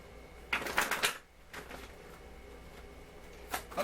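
Reading cards shuffled in a few quick riffling bursts, the loudest run of flutters up front, then a softer pass, and a final brief riffle at the end, close and otherwise quiet.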